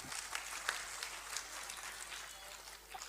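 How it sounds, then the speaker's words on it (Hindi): An audience at a quiz competition in an arts council hall claps for a team, a dense patter of applause that holds for a few seconds at moderate level, with faint voices mixed in. "तालियां होनी चाहिए इनके लिए।"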